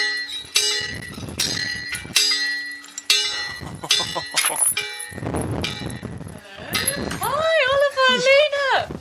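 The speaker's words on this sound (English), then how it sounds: "there's a 20-foot chain attached to a big bell, and I assume that is how one enters the chateau" A large bell at a chateau in Burgundy, rung by pulling a long chain, clangs several times with ringing metallic strikes while people talk over and between the peals.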